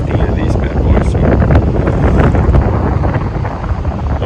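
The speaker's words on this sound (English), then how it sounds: "Windy though, really windy down here at the coast." Strong wind buffets the microphone on the coast at low tide, a loud, steady roar of gusts that fills the whole clip with no pause.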